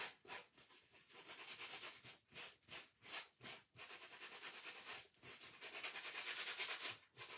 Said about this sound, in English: having better sandpaper definitely made a difference on this